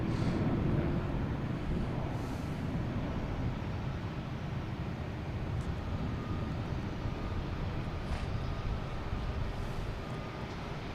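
A jet airliner taking off at Boston Logan Airport, heard as a broad, steady low roar of engine noise that stays constant and fairly distant throughout, with no voices.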